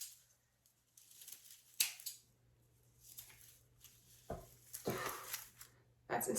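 Scissors cut strands of costume material for a Cher-inspired outfit. A few quiet, separate snips sound close by against a soft background.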